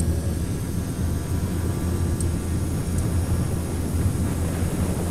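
Wind rushes steadily over a Quest Kodiak G1000 during its takeoff roll down the runway in X-Plane 11, layered with a constant low engine drone at an even, unbroken level.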